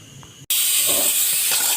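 Peeled potatoes are dropped into hot oil with chicken powder for frying, and after a brief quiet moment a loud, continuous sizzle bursts out and holds steady.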